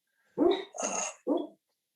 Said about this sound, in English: a dog that's barking in the background